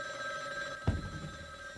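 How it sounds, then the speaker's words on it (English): A telephone bell rings steadily and clearly, alone with no talk, with a brief knock or thump partway through. "I'll get the phone."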